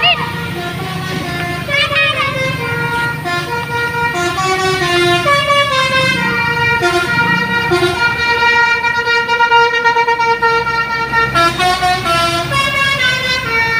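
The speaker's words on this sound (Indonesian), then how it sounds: "Kali ini ada bus Agriamas teman-teman." An Agramas bus passes along the road, its multi-tone musical horn playing a long melodic honking sequence over a rumbling engine, with a voice talking over it.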